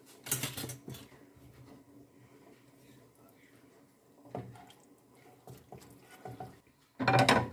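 Fried dressing scraped into a pot of old-style Ukrainian Cossack cabbage soup, with close clattering spoon-on-pot knocks and scrapes in separate bursts, the loudest at the end, between quieter kitchen stretches.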